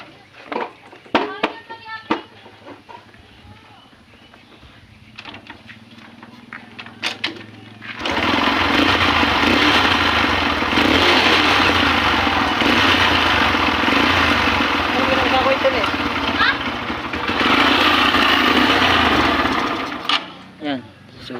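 A Honda CB125 motorcycle, fitted with a converted 4-pin CDI, starts after some talk and then runs steadily and loudly at idle for about twelve seconds before cutting out, its engine chugging evenly up close.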